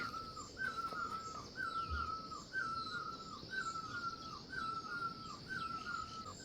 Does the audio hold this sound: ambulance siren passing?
no